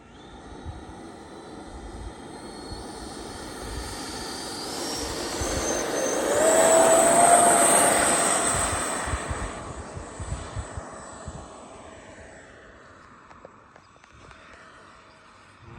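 Freewing MiG-29 RC jet with electric ducted fan throttled back to about half, a whooshing whine that swells as the model passes close overhead, then fades into the distance.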